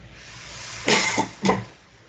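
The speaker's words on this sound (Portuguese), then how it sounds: "Desculpe a tossida aí." Two quick, close coughs in succession over a faint background hiss.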